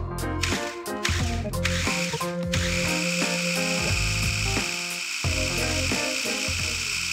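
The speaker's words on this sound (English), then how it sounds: "when whisking eggs, the manual says to leave it on chop, not on puree" A KitchenAid 5-cup food chopper fitted with its whisk attachment runs on the chop setting while whisking eggs, giving a loud, steady motor whir with a whine that shifts in pitch, close up and without voices.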